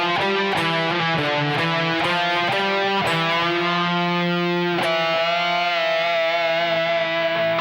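Distorted electric guitar riff in G Dorian on a rock guitar, loud and sustained with harmonic-rich held notes and quick note changes, played alone with no talking.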